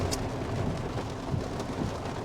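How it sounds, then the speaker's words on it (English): A heavy thunderstorm pours steady rain, with low rumbling thunder rolling beneath the constant wash of drops. "So this is this heavy storm that was forecast."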